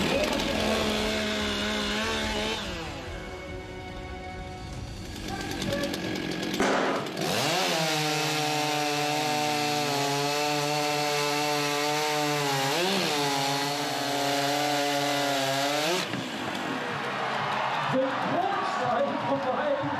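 A chainsaw idles, then roars into a loud, steady cut through a wooden log in a timber sports competition, its pitch dipping under load before dropping back to idle.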